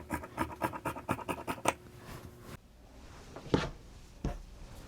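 Scissors cut fabric along a pattern line for pajama pants, a quick run of rhythmic crisp snips followed by two isolated cuts after a pause, close and fairly quiet.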